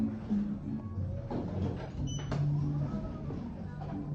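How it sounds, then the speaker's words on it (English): A mechanical whirring and sliding rumble as a Schindler 5500 elevator's door operator runs in a casino lobby, with a brief chime-like tone midway amid soft background noise. "I heard that door operator."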